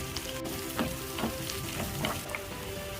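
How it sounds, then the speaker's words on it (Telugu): Chillies hit a little hot oil in a pan for a mushroom pepper fry, making a steady close sizzle broken by short popping crackles every half second or so. "ఆయిల్ వేస్తున్నాను కొద్దిగా. సేమ్ టైం మిర్చి కూడా వేస్తున్నాను."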